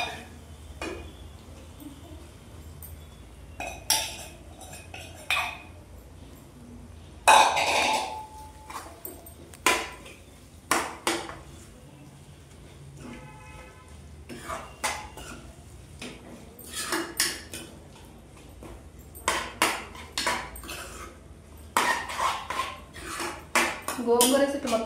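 Spoon clinking and scraping against a pot as gongura leaves are stirred into tomato boti, a string of sharp metallic knocks in irregular bursts, some loud, with faint background noise between.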